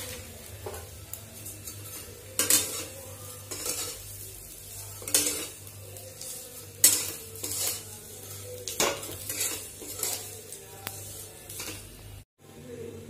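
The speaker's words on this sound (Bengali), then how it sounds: "সেভাই আমি একটু ঘি দিয়ে ভেজে নিচ্ছি ভালো করে" Vermicelli (sevai) frying in ghee in a home kitchen, a low sizzle broken by repeated scraping and clanking of a spoon against the pan in irregular bursts, close by, with no one speaking.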